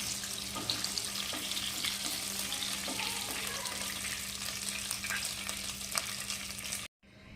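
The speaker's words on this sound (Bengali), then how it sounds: "মাছটা হালকা ভাজা করে নিয়েছি বেশি ভাজবো না" Steady crackling sizzle of fish lightly frying in hot oil, continuous and close, with a low hum underneath and a few faint clinks, cutting off at the end.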